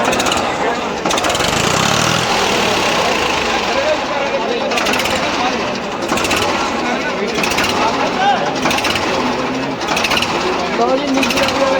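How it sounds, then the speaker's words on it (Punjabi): A loud, steady motorcycle engine runs with a rough, pulsing rumble, close by, with a busy crowd and voices underneath, at a livestock fair in Dhanaula. "ਮੋਟਰਸਾਈਕਲ"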